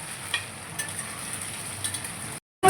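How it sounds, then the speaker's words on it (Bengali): Potatoes frying in a pan while cooking mutton keema: a steady, moderate sizzle with small crackles runs throughout, cutting off abruptly near the end, with no voices. "আলুটা ভাজা হোক"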